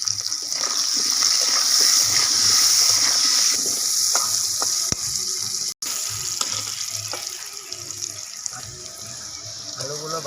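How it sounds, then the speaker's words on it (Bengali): Potatoes frying in a pan for a soybean and egg dish, giving a steady, close hiss of sizzling oil with a bright, dense texture that holds throughout and briefly dips once. "আলুগুলো ভাজা হোক।"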